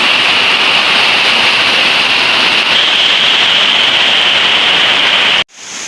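Heavy rain pours down on a house during flooding in a steady, loud hiss that continues without pause, then cuts off abruptly near the end.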